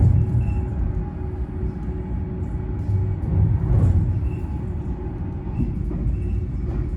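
A passenger train rolling through the Dutch countryside toward a small village, a loud, steady rumble and hum heard from inside the carriage, with no clear slowdown.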